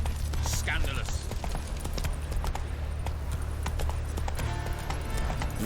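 Horse hooves clip-clopping steadily in The Witcher 3: Wild Hunt, a close, even trot over ground beneath a low rumbling game soundscape with a brief whinny-like call near the start.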